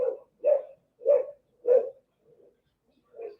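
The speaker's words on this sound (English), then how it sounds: "Oh, my dogs are going off." Dogs bark indoors at home, with four sharp mid-pitched barks at a steady pace, a faint quieter yip and then one more bark, moderately close with silence between.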